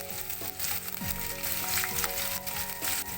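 Green chilies and curry leaves frying in a pan for keto chana masala, a quiet steady sizzle with a few stirring scrapes, close by, no voices.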